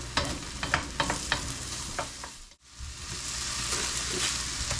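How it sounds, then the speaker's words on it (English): A spoon stirs chopped parsley into venison stuffing browning in a hot pan. Steady sizzling runs under a series of scraping stirs that fade out briefly midway, then the frying hiss resumes, close and continuous. "take a little bit of the parsley, add that in. And continue stirring that in."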